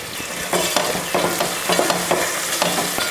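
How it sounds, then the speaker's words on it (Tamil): Onions and garlic sauté in a hot pan with asafoetida: a loud, continuous sizzle broken by repeated scraping stirs of a spoon, with no talking. "வெங்காயம் போட்டு வெங்காயம் வெள்ளை பூண்டும் நல்லா வதங்கிருச்சு"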